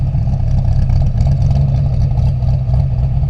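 A modified V8 with a lopey camshaft idles loud and close in an RX-7, a dense, uneven low rumble that pulses steadily throughout with no revving.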